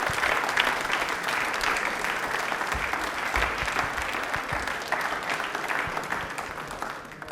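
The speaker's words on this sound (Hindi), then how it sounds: "तालियां चेतना के लिए जोरदार बजा दीजिए।" A studio audience at a televised quiz show applauds a contestant, sustained dense clapping that holds steady for several seconds before tapering slightly at the end.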